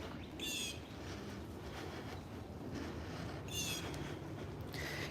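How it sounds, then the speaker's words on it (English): Birds chirp in short bursts through Central Park's North Woods in New York City, faint and intermittent over a steady hiss of wind and distant city rumble. "Can you hear the birds out here?"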